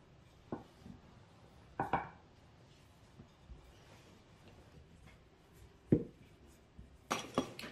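A knife cuts through floured dough with a few sparse, sharp taps against the board, spaced irregularly with quiet stretches between, ending in a quick pair of cuts.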